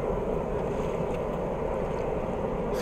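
Howling wind on a planet in the video game No Man's Sky, a constant dense roar that holds steady and loud throughout, with no voices.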